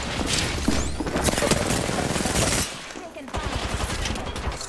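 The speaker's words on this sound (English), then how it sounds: "Continue being suppressive fire." Apex Legends gunfire rattles in dense overlapping volleys, loud and close. The shots thin out for a moment partway through, then sharp single reports return.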